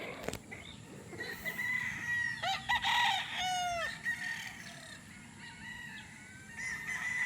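A ten-month-old Boston Black gamefowl rooster crows once, clear and near, in an outdoor yard, followed by fainter clucks and distant fowl calls.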